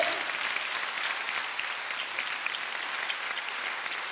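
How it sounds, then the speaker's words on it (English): Sustained, even applause from an audience at a speech in Los Angeles, a dense, continuous wash of many hands clapping at a moderate distance and holding steady throughout. "you can give a sister a round of applause"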